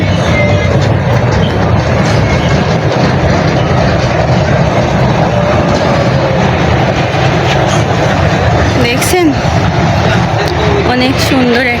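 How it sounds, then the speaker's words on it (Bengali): Train rolling past near a hillside spot with steps, a loud continuous rumble of wheels and carriages filling the whole stretch while people talk over it. "ট্রেন যাইতেছে"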